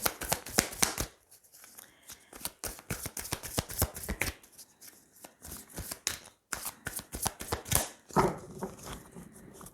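Tarot cards being shuffled by hand: a rapid, dense run of crisp riffling and slapping card sounds with brief pauses, close and fairly loud, no voices.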